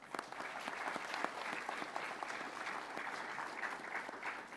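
School awards ceremony audience applauding as the heads of year come on stage, continuous scattered clapping at a moderate distance, quite faint overall.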